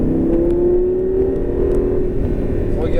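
A Lamborghini Gallardo LP 560 on a circuit at La Ferté-Gaucher drones loudly from up close, the engine holding a rising then steady tone, while a voice speaks over it.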